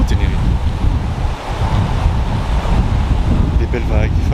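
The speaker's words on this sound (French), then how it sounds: "Des belles vagues, enfin, la mer est calme" Ocean waves wash in steadily on the coast of Tenerife, with heavy wind noise buffeting the microphone, a constant broad roar close by.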